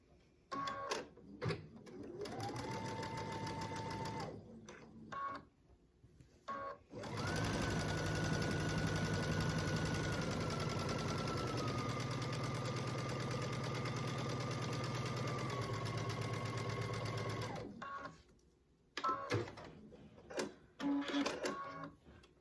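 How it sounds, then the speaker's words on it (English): A sewing machine joins yellow and purple quilt pieces right sides together at a quarter-inch seam, running in a long steady whirring burst between shorter runs, with brief pauses and faint handling noises, close and alone. "I'm gonna sew them right sides together at a 1/4 inch again."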